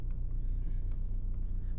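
Pen or pencil scratching on paper while working a class 9 geometry problem on quadrilaterals, a steady close scribble lasting the whole short stretch.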